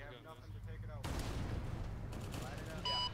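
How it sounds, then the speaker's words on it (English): Rapid M4 rifle fire in an ArmA 3 infantry battle, a dense burst of cracking shots that starts abruptly after a quiet second and continues loudly to the end, with radio chatter and tones layered over it. "Who the fuck's shooting at it with an M4?"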